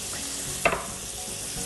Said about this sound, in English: You want to hear it sizzle when you put it in.